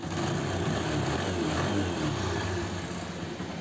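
A TVS Apache motorcycle engine starts on the self-starter and settles into a steady, close idle, a continuous mechanical hum with no talking.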